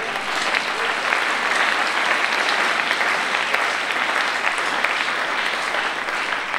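A church congregation at a sermon breaks into sustained applause and cheering, a dense, steady roar of clapping filling the room without pause.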